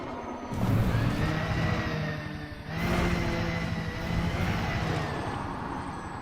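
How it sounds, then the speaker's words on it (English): A spaceship in the video game Elite Dangerous making a hard landing, a loud synthetic engine drone with low thruster hum, dipping briefly and then surging again before tapering off. "Hard landing, folks, hard landing."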